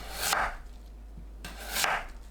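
A knife slices an onion on a cutting board, with two slow, separate cutting strokes, each a brief rasping crunch, close up in a quiet kitchen.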